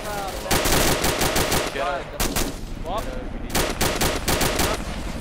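Machine gun fire in ArmA II, dense rapid bursts of automatic shots with short gaps between strings, loud and close, with brief voice chatter between volleys.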